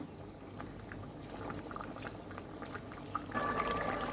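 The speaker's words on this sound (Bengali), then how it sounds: "মাছ দিয়ে ঝোলটা ফুটিয়ে নিয়েছি।" A pot of katla fish curry with cauliflower bubbles at a steady simmer, a soft continuous burble that grows slightly busier toward the end, close and fairly quiet.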